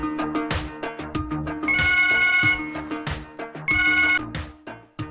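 An outgoing call on a phone rings back in two long electronic bursts with a pause between them, sounding over steady background music in a Kannada comedy film scene.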